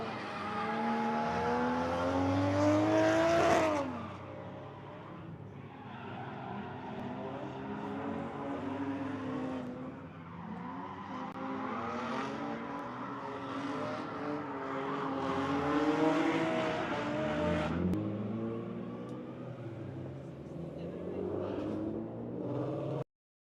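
A white BMW M4 drift car works the Owosso Speedway track during a Michigan drifting event, its engine revving hard in rising and falling howls with bursts of tire noise, heard from a moderate distance.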